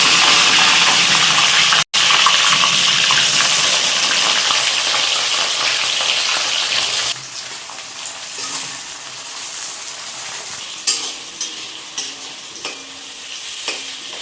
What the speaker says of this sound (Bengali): পেঁয়াজ আর লঙ্কাটা ভাজা হতে থাকুক একটু লাল লাল করে